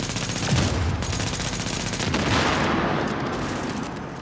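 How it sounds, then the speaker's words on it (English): Rapid gunfire in the Tom Clancy's The Division video game, dense bursts of shots crackling close and loud in quick succession, with intensity rising and falling over several seconds and no voices. "Getting hit by snipers."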